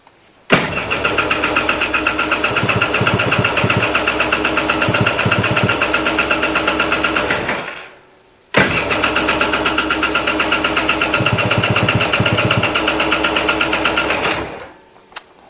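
A Polaris Sportsman ATV engine is cranked over in two long, loud starter bursts with a brief pause between them, its rough whirring churn close and steady, with no voices.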